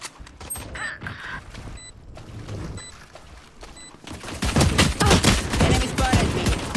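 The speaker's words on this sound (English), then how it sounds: "Reloading." Gun reloading in a tactical shooter video game, a few brief metallic mechanism clicks and clacks, followed by louder bursts of gunfire and rumbling battle noise.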